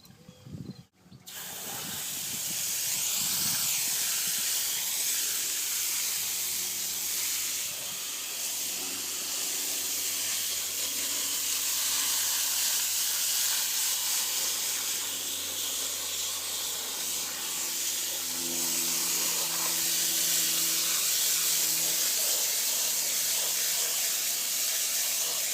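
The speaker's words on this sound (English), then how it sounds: "All right, time for a spray." A bonsai misted with water, a steady close hiss of spray running almost without pause for about twenty-five seconds after a brief clatter at the start.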